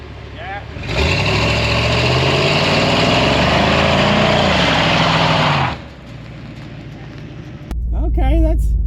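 Car engine revving hard and sustained through a burnout, a loud continuous roar that rises and falls in pitch, then drops off near the end before a brief surge with a voice over it.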